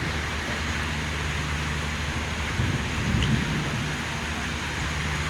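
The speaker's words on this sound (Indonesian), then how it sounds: "Tiba di stasiun Ngawi diiringi dengan hujan yang lumayan deras." Heavy rain falls steadily on the platform at Ngawi railway station as a vintage-locomotive train arrives, a dense even wash with a faint low rumble partway through.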